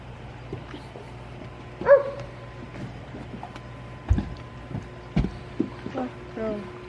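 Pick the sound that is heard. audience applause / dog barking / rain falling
dog barking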